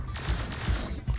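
Rapid blaster gunfire in an anime-style platform video game, a dense burst of repeated shots with a few stronger bursts across about a second, loud and steady with no talk.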